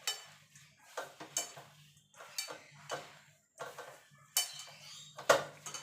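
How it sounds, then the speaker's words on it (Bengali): Lentils with salt and turmeric are mixed by hand in a metal bowl, giving soft rustling, scraping bursts in uneven strokes with occasional clinks against the rim, close and quiet with no talking. "এবার ভালো করে এগুলো মেখে নেবো একসঙ্গে।"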